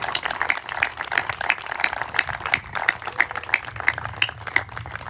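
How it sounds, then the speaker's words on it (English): Audience at a locker room groundbreaking ceremony giving a round of applause, a steady patter of many hands clapping at moderate distance, fairly quiet and continuous throughout. "Let's give them a round of applause."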